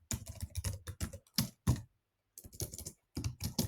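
Computer keyboard being typed on, quick bursts of close, crisp keystrokes with a brief pause in the middle.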